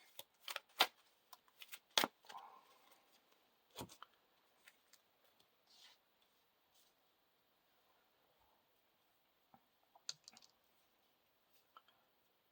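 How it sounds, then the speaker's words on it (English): Playing cards being shuffled into an encounter deck for a Lord of the Rings card game, faint close-up riffles and soft taps in scattered bursts with long quiet gaps. "Then we shuffle the Eagle into the encounter deck."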